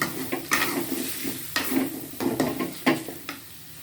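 Ingredients for vegetable lodeh dry-roast in a pan on the stove, a utensil scraping and stirring in irregular strokes with sharp knocks against the pan over a faint sizzle.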